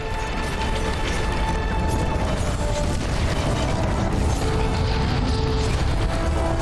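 A siege weapon in the game LOTRO (Lord of the Rings Online) fires bolts amid constant clanking, ratcheting machinery, with dull booms and tonal battle ambience running loud and continuous.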